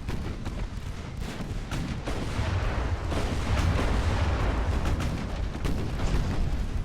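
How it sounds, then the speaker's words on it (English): Naval guns of 7-inch caliber fire at cruisers in the warship game Ultimate Admiral: Dreadnoughts. Deep booms and blasts follow one another in a dense barrage, and the rumble builds steadily through the middle of the sequence. "These 7-inch guns are tearing them apart"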